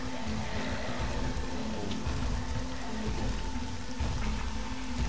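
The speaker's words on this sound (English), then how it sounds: "I just wish it wasn't raining." Rain in the survival video game SCUM, a dense continuous patter of drops on surfaces, steady and fairly loud throughout with a low constant hum beneath, no voices.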